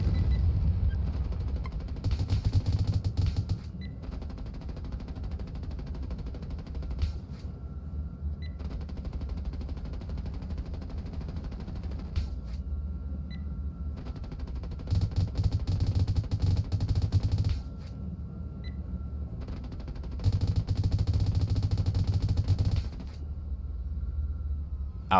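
Aircraft cannon fire in the video game Nuclear Option, several sustained bursts of rapid fire lasting a few seconds each, separated by a lower, steady background rumble.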